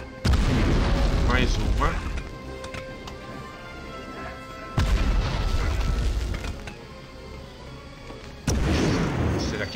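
Grenade blasts in the video game Medal of Honor: three heavy booming explosions with long rumbling tails, spaced a few seconds apart, loud and close, with someone speaking briefly between them.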